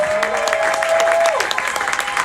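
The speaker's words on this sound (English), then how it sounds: "you ought to give yourselves another round of applause" An audience bursts into dense, lively applause, many hands clapping close and steady throughout, with a held tone fading out early on.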